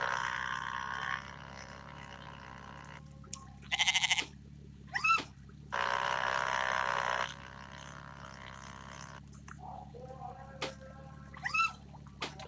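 In the video game Dentures and Demons, a goat bleats several times in separate bursts, some drawn out and some short, over a steady low game ambience, fairly close and clear.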